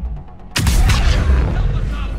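An explosion in the Mass Effect 3 video game bursts in abruptly after a quiet moment, a loud deep boom that rolls into a sustained rumbling tail.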